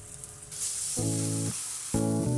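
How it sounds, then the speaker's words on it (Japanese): Onions go into hot oil in a frying pan for chicken keema paratha filling, and a sudden loud sizzle starts and then holds steady while two short tonal notes ring over it. "続いて玉ねぎを加えます。"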